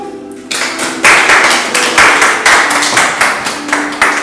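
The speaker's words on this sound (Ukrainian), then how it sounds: "А зараз ми оплесками вітаємо новостворену українську сім'ю" Wedding guests at a civil registration ceremony clap for the newly married Ukrainian couple, a quick rhythmic burst of close, loud claps starting after a short pause and repeating in a steady beat.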